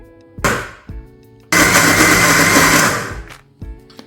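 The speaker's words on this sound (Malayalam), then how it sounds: "നമ്മൾ പുഴുങ്ങി തൊലി കളഞ്ഞ് ഉടച്ച് വെച്ച പഴം ഒന്ന് മിക്സിയുടെ ജാറിലിട്ടിട്ട് ഒന്ന് കറക്കിയെടുക്കുകയാണ്" A mixer grinder whirs loudly as it blends boiled, peeled and mashed bananas for banana halwa, a short burst first, then a sustained grinding run of about a second and a half that tapers off, with brief clunks around it.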